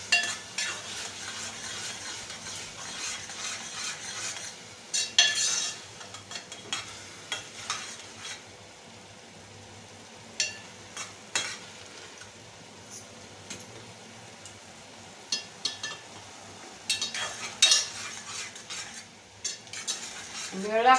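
Spices and paste for kat masala fry in oil in a pan, with a soft, steady sizzle. Repeated scraping stirs and sharp metal clinks of a spoon against the vessel come and go throughout. No one speaks.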